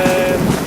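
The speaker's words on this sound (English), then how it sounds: "The wind's a little stronger than I thought." Strong wind in a storm in the Saxon Switzerland outdoors roars steadily and loudly against the microphone, a dense continuous rush with rain-like texture and no break.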